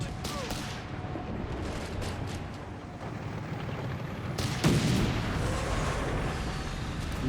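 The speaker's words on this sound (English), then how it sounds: "Nebelwerfer barrage off here." Nebelwerfer rocket artillery barrage in Company of Heroes 3, a dense rumble of repeated blasts and crackling impacts that swells near the end, heard alongside continuous battlefield noise.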